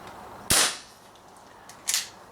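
An Umarex Marlin BB revolver firing two sharp, snappy shots about a second and a half apart, each a bright crack that fades quickly, with no talking.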